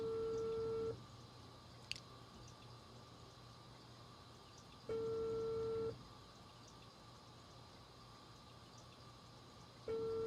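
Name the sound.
telephone dialing and ringing in a video game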